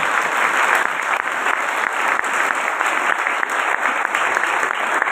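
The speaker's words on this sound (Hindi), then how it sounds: "बजाइए यीशु मसीह के नाम की जोरदार ताली।" Steady, enthusiastic applause from a church audience fills the clip, continuous dense clapping at close range with no speech over it.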